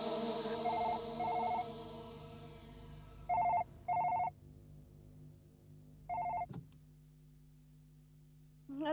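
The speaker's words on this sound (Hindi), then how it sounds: "हाँ, हाँ, अभी फोन आया था शैलेश का।" A telephone bell rings in a Hindi horror drama scene, several separate rings with quiet gaps between them, fairly close and clear, ending with a sharp click as the call is picked up.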